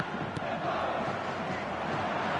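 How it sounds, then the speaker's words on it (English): Football stadium crowd roaring and chanting steadily, a dense, continuous wall of many voices during a match. "The crowd are calling for this to be put to bed."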